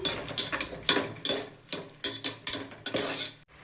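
A spoon scrapes and clanks against a pan while stirring tomatoes with ginger garlic paste for chicken biryani, in repeated rhythmic strokes, close and clear, with a soft sizzle underneath.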